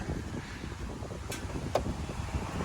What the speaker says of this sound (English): Sorry if it's a little bit windy